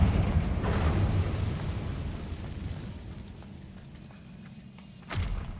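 A Confringo fire spell bursts in Hogwarts Legacy, giving a loud, dense, low explosive rumble that fades over several seconds, with a second thump near the end.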